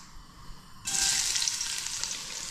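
Garlic dropped into hot cooking oil bursts into a loud, steady sizzle that starts abruptly and holds close up, with no talking over it.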